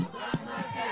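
A crowd gathered for a Tea Party press conference outside the Supreme Court gives a brief burst of shouting and cheering, a short loud swell over steady background crowd noise.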